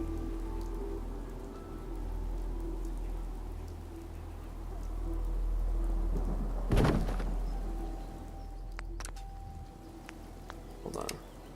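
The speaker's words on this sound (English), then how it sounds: "I really thought it was raining in real life, but it's raining in the game." Rain falling in the Fallout 4 video game, a steady hiss of drops on surfaces with low rumble, interrupted by a sudden sharp crack partway through and a few small clicks near the end.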